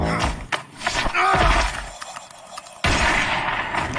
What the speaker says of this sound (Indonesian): dimenangkan oleh John, lalu melepaskan peluru pistolnya di dalam mulut Tonju.